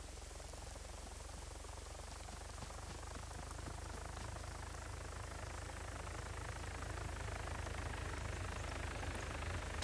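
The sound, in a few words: helicopter in a video game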